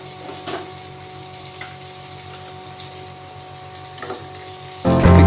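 Fish frying in a pan makes a steady, moderate sizzle with a few brief clatters, under background music that swells loudly near the end.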